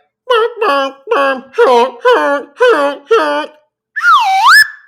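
Slide whistle in a comedic moment: seven short, rising-and-falling whistle swoops in a steady rhythm, then a longer wavering glide, loud and close.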